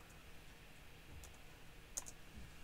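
A computer mouse clicks while a sample is renamed in MPC Beats, giving a few faint, scattered, dry clicks against a quiet background, the sharpest one near the end.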